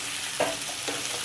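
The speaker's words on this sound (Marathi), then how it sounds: "आता ही केळी आपण यामध्ये घालणार आहे." Pieces of raw banana fry with onion in a pan, a soft steady sizzle with a couple of brief stirring scrapes, faint and with no voices.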